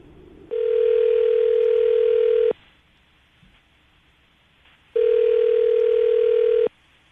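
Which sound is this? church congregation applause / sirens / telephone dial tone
telephone dial tone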